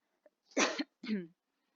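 Two close coughs, the first sharp and the second rougher and shorter, followed by quiet.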